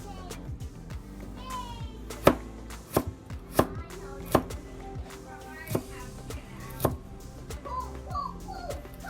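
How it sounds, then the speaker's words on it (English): A knife chops carrots thinly on a cutting board, giving repeated crisp knocks in an uneven rhythm, close and clear, with faint background voices and household sounds. "we cut the carrots like this, and then we put it like this, and then we just cut it. Try to cut as thin as possible."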